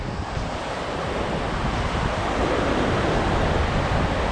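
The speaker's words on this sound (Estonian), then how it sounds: "siin on ikka nii metsikud lained" Wild sea waves crash in a continuous loud roar driven by strong wind, with heavy microphone buffeting and no voices, the surf building slightly toward the end.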